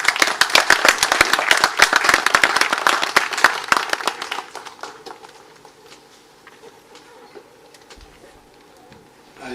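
Audience applause at a central bank governors' meeting, dense clapping from a hall of attendees that thins out after a few seconds into scattered claps and fades to room quiet.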